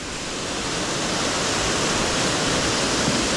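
Pritchett Creek running full, a steady broadband rush of water close by that holds even and loud throughout with no voices over it.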